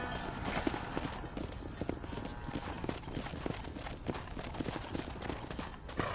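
Horse hooves clip-clopping in the Western video game Red Dead Redemption, a steady rhythmic trot of hoofbeats at moderate distance over low ambient rumble, with a faint whinny.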